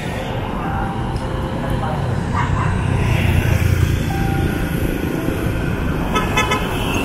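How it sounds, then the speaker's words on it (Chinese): Busy roadside traffic rumbles past steadily, with a car or truck horn tooting several times, including a short burst of quick beeps near the end. "旁边车来车往的"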